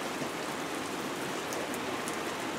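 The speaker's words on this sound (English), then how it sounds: "It's not windy. It's just raining." Rain falls steadily on a calm, windless morning, a continuous even hiss of drops with no other sounds and no voices.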